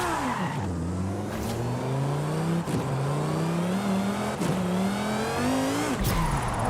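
A Lamborghini engine revving through repeated rising gear pulls while drifting in the video game Forza Horizon 5, driven with a steering wheel, loud and close, with short drops between shifts and a sharp cut near the end.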